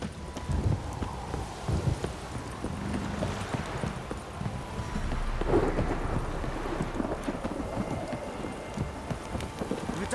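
Steady rain falls in The Witcher 3 alongside the clip-clop of horse hooves and a low rumble of distant thunder, a continuous soft wash of storm sound.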